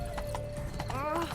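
Rapid clip-clop of galloping horse hooves with a brief whinny from the Witcher 3 Blood and Wine video game, heard under a loud voice talking over game music.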